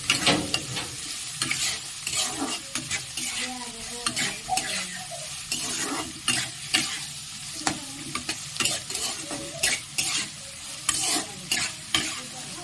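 Tomatoes and chopped onions fry for street-style egg chowmein, with a continuous close sizzle and repeated rhythmic clanks and scrapes of a spatula stirring the pan.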